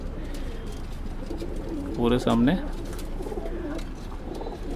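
Male pigeons in a loft give a clear, rolling coo close by, amid a background murmur of other birds, while someone speaks briefly over them.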